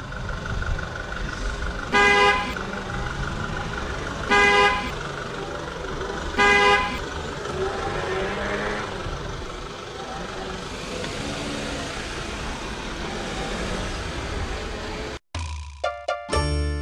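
Italian street traffic during a festival, with three loud, evenly spaced car horn toots about two seconds apart over a steady rumble of passing vehicles and voices, followed by a sudden cut to a different sound.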